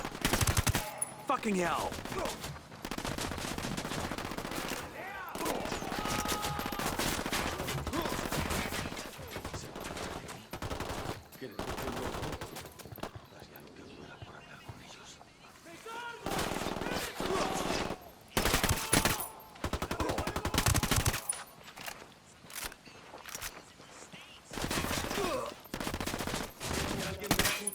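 Gunfire in the video game Ghost Recon Wildlands, with repeated loud bursts of automatic fire separated by quieter gaps and a man cursing between volleys.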